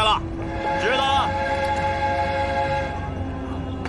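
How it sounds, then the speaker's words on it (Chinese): A train arrives with a steady, sustained horn tone over the rumble of rail traffic. Voices talk over it throughout. "火车来了"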